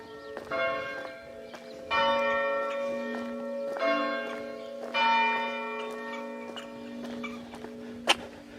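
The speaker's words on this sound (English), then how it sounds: "is the bell of St Bartholomew's Church, which is telling us that it's 6:15 on Sunday morning" The bell of St Bartholomew's Church rings on a quiet Sunday morning at a quarter past six, with several evenly spaced, resonant strikes whose long ringing tones overlap and fade, and no voices.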